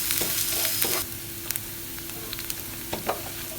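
Mustard powder stirred in a frying pan, a loud bright sizzle for the first second that settles into a quieter fry with scattered spatula clicks and scrapes, no speech.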